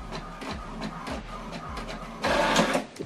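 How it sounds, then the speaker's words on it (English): An HP DeskJet inkjet printer prints a page, its carriage shuttling back and forth in steady rhythmic passes with whirring feed motors, growing louder and busier near the end as the sheet advances. "Now what it's doing now is printing the welcome information that I sent to this printer."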